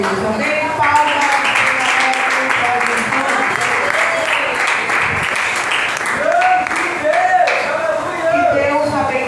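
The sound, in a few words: applause in church service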